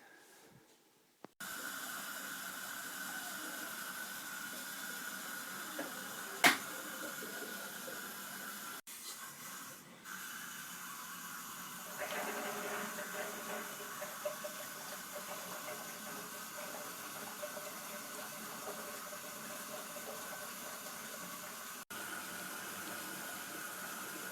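Water running from a tap into 55-gallon plastic storage barrels, a steady close hiss and rush of filling that continues with a few brief breaks and small knocks.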